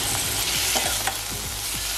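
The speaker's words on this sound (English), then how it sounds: "Then I'm adding the chopped methi." Chopped methi leaves hiss and sizzle in a hot pan for pulao while a spoon stirs them in, with a few quick scraping strokes over continuous frying noise and no talking.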